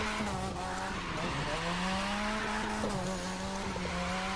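Car tires squealing through an oversteering turn in The Crew 2 racing game, a loud sustained screech with wavering pitch over a steady engine roar, no talk.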